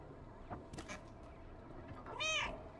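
A cat meows in the video game Stray, with a couple of soft, short mews early on and then one clearer, drawn-out meow near the end over low background ambience.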